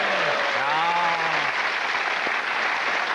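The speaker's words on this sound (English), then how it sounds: "He wins a book token and this round of applause." Studio audience at a television comedy show applauding: a dense, even wash of clapping that holds steady for a few seconds, with a brief whistle-like tone sliding through near the start.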